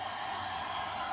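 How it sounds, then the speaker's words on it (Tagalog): A heat blower runs steadily while being used to soften and remove a cloudy headlight cover, giving a continuous broadband airy hiss with no pauses or voices. "umorder si Sam ng blower heater."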